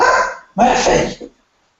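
An excited dog gives two loud, close barks or yelps in quick succession, the second longer and trailing off into silence.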